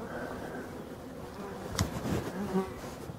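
Male honeybees, drones, buzz around hives in a forest, a steady low droning hum with individual insects passing near the microphone, no speech.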